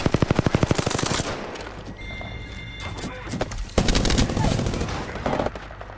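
Rapid automatic gunfire in an Apex Legends match, a loud burst of closely spaced shots at the start, then scattered shots and game effects over a low engine-like drone.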